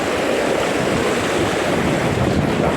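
Strong wind gusts buffet the microphone beside a swift, rushing river, a dense continuous roar of air and churning water with no voices, loud and close throughout.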